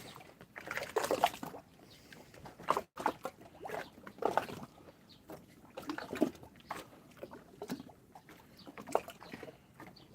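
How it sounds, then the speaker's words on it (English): Water lapping against wooden dock boards and rubber tires in Cebu, Philippines, a series of irregular close sloshing slaps and knocks over a quiet background, about a dozen hits spread unevenly. "The noise is the water hitting these boards and tires here."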